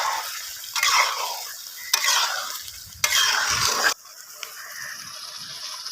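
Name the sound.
gently stirring chicken liver pepper fry in a pan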